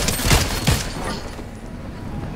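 Video game gunfire, with two sharp shots close together near the start, followed by a rumbling, noisy game soundscape and no clear speech.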